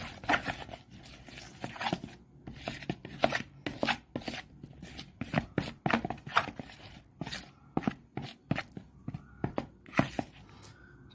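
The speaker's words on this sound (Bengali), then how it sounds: "এবারে বেসনটাকে আমি মাখিয়ে নেব" Gram flour (besan) batter is mixed by hand in a bowl, giving repeated wet slapping and squelching strokes in an irregular rhythm, close and fairly loud.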